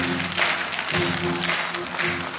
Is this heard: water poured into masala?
no